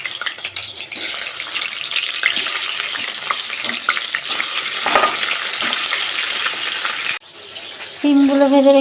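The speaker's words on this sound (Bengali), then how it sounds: "কড়াতে তো তেল দেওয়া হয়ে গেছে মাছ দিয়ে দেবো" Fish spits and sizzles loudly in hot oil in a wok, a broad crackling hiss running for about seven seconds before it drops away and a brief tonal sound follows.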